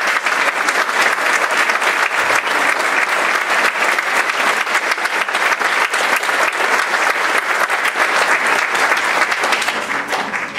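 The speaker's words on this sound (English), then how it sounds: "Please give a warm applause to Anthony Crossing." Sustained applause from an audience at a middle school jazz concert, steady and dense throughout with no pauses, loud and close.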